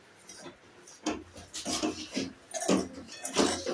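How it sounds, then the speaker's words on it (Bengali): Dry semolina (suji) is stirred and scraped in a dry pan for namkeen suji, with soft rhythmic rubbing and scratching strokes that grow louder and quicken toward the end. "তার আগে সুজিটা একটুখানি গরম করে নিই শুকনো করায়"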